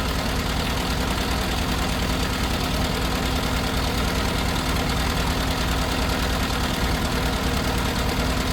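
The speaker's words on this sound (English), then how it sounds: "now that I've got the engine running" The twin-carburettor engine of an Innocenti car runs steadily at idle, close by, with a loud, even mechanical hum and rapid ticking throughout, alone without talk.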